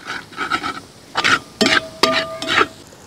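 Ginger, garlic and chilli fry in a pan while a spoon stirs them, giving several short scraping, sizzling bursts in an uneven rhythm, close and fairly loud.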